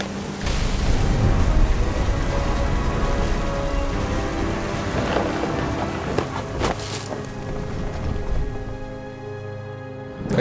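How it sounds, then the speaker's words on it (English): A thunderstorm in the video game What Remains of Edith Finch, with loud, close thunder rumbling continuously over steady pattering rain and a few sharper cracks partway through. "The thunder sounded much too close and full of angry power."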